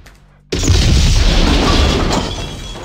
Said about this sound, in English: Ridiculously loud explosion as usual.